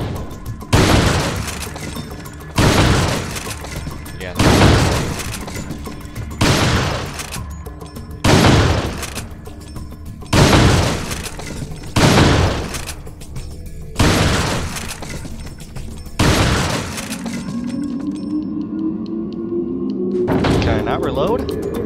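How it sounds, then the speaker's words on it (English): Rifle and shotgun gunfire in the video game Resident Evil 4, about ten loud heavy blasts at a steady rhythm roughly every two seconds, followed by quieter game sounds. "Let's try the rifle and shotgun"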